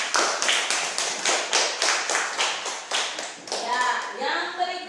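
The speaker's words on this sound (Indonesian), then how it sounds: "Tepuk tangan untuk kelompok Leon." A class claps together for a student group in an Indonesian classroom, a steady run of rhythmic handclaps that fades as children's voices and chatter take over near the end.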